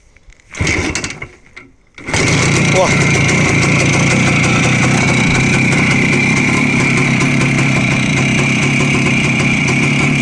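A few sputtering attempts, then the small engine of a 1978 Voskhod 2M motorcycle catches and keeps running at a loud, steady idle close by; a voice briefly exclaims.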